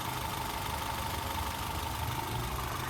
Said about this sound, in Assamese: এইটো চাওক পেট্ৰল ইঞ্জিন হয়